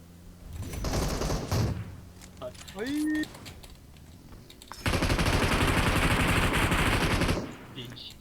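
Bursts of automatic gunfire in the PUBG Mobile battle royale, a short burst first and then a long sustained rattle of rapid shots, with a brief electronic tone between and voices talking over the game.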